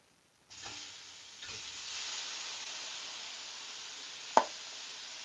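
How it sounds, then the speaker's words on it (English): Prawns hit a hot pan for a Malaysian-style Panang curry, bursting into a loud, steady sizzling hiss that keeps building, with one sharp pop near the end. "This is probably going to sizzle everywhere."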